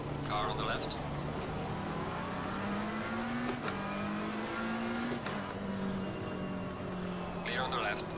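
A race car engine drones steadily in Assetto Corsa Competizione at Misano, its pitch rising and falling with gear changes as another car runs alongside on the left; the sound is moderately quiet and continuous.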